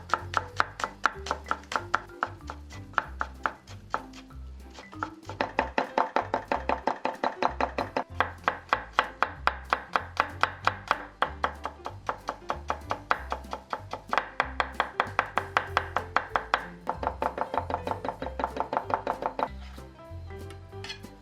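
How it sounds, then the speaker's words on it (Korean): Green onion and garlic are finely minced with a knife on a cutting board for a Korean skewer dish, a steady run of rapid, close chopping taps that continues for some twenty seconds with only brief pauses. "제일 먼저 대파 마늘부터 곱게 다져주도록 할 건데요."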